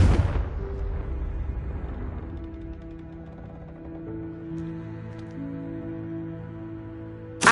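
A Confringo blasting spell from a PlayStation 5 game bursts loudly at the start, then fades into a low rumbling tail under a sustained musical drone, with a sharp hit right at the end.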